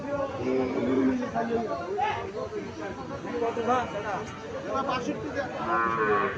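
Cattle lowing amid the crowd at Chandimura cattle market in Cumilla, Bangladesh, where heifer and bull calves are being sold; close moos rise over steady chatter and bargaining voices throughout.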